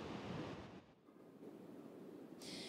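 Heavy ocean surf rolls and roars at Imperial Beach in California, where waves reach 15 to 20 feet, a broad continuous wash mixed with wind buffeting the microphone and no talk.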